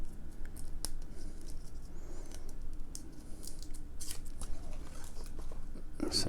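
Thin plastic protective film is peeled and crinkled off a Casio dive watch up close, a series of sharp rustling crackles and snips over a quiet room background.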